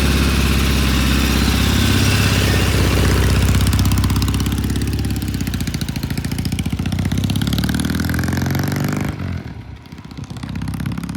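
Norton motorcycle engine, a black bike on a test ride, running loud and steady in first gear with a rough mechanical clatter, easing slightly partway through before a brief dip and pickup.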